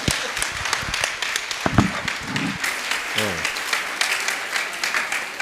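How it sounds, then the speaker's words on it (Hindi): A large crowd at a Jain religious gathering applauds loudly and continuously, dense clapping filling the hall with a few louder claps standing out and some voices mixed in. "जोरदार तालियां।"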